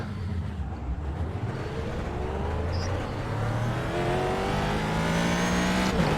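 A Ford GT GT3 racing car engine in iRacing drones loudly and steadily, its pitch climbing as it accelerates through long gears, with no speech.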